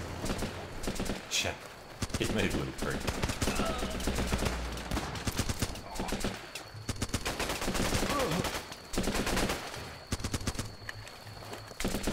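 Rifle fire rattles nearly nonstop in Running with Rifles, with bursts of sharp, close shots and machine-gun strings layered over distant battle noise, under occasional talk.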